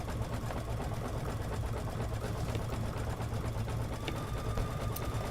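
A sewing machine runs steadily while stitching a satin stitch on a scarf, a constant low mechanical hum with fast rhythmic needle chatter and no pauses.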